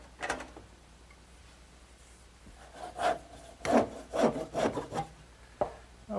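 A hand saw cuts a sanded wooden candle stand column to length, giving a few scattered rasps early, then a run of close, rhythmic strokes.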